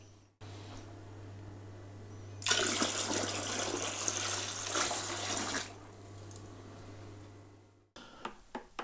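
Cold water gushes from a tap into a plastic beer fermenter being topped up to 23 litres, a loud steady rushing for about three seconds over a constant low hum, then tapering off, with a few knocks after.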